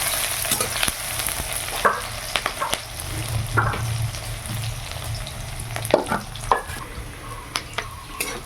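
Onion frying lightly in a pan of oil for a fig curry, a moderate sizzle punctuated by repeated spatula scrapes and knocks against the pan, close by, with no voices.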